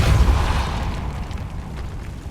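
Spell effects from the video game Hogwarts Legacy, Incendio and Repulsor, a loud rushing burst with a deep low boom that fades into a rumbling tail.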